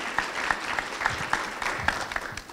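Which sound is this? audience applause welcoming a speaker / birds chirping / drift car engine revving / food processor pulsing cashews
audience applause welcoming a speaker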